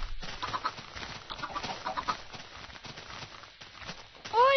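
Chickens cluck in the block-building game AdventureCraft, soft repeated clucks spread through a busy game soundscape, with a louder sweeping squawk at the end.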